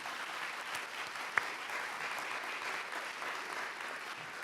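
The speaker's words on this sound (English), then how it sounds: "Let's give them the round of applause." Audience at a youth-support conference in San Diego applauding, a quiet, distant, even wash of clapping heard from afar, with one sharp knock partway through.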